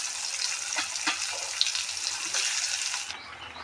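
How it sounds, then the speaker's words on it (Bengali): Bitter gourd frying in hot oil gives a dense, continuous close sizzle with a few soft stirring knocks, with no voices. "সীতা করলাটা আমি ভাজা করে ডালে দেব।"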